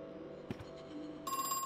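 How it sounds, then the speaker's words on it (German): Telephone ringing in the horror video game Crow Country; the steady electronic ring starts abruptly near the end over a low ambient hum, after a brief knock or thud. "Dann wieder ein Telefon."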